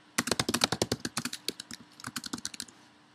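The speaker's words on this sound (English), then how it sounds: "and I'm going to type in a name." Someone types a name on a computer keyboard in a quick, close burst of crisp keystrokes, with a short pause in the middle. No one speaks.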